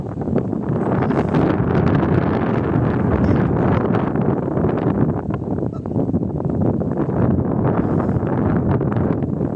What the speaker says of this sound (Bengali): ঠান্ডা ঠান্ডা একটা বাতাস আছে।